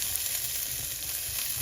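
Garlic and onion sizzling in a frying pan for a simple home vegetable stir fry, a steady hiss that holds at one level throughout with no voices.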